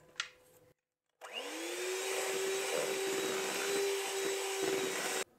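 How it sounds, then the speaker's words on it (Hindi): An electric beater whirs through orange cake batter after dry ingredients go in: a short click, then a steady, fairly close motor whine for about four seconds before it cuts off. "इसे मैं जब बीट कर रही हूँ ड्राई चीज़ें डाल के, तो सिर्फ 5 सेकंड के लिए बीट कर रही हूँ।"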